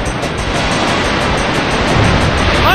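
Splash move from the Pokémon Stadium video game: a dense, steady wash of water noise like surf, loud and continuous throughout, with a faint game tone near the end.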